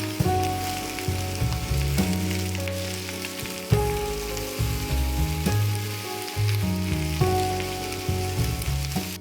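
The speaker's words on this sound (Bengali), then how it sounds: "কড়াইতে তেল ও পাঁচফোড়ন সরিষার সাথে সিদ্ধ জলপাইগুলো দিয়ে দিলাম।" Boiled olives sizzle in hot oil with five-spice and mustard seeds in a pan: a constant crackling fry with pulsing bursts of sputter and occasional stirring clatter, close and steady, with no voices.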